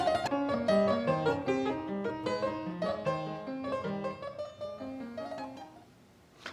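A Stein fortepiano of Mozart's era plays a lively passage of brisk, clearly articulated notes and chords, bright and precise, heard close and alone, with the final notes decaying into a quiet room.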